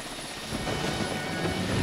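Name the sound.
aircraft engine, helicopter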